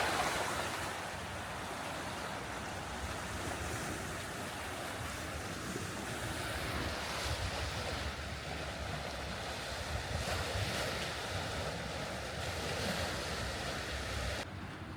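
Waves wash against the Lake Superior shore near a small lighthouse, a steady broadband surf roar mixed with wind buffeting the microphone, continuous and fairly close with no talking.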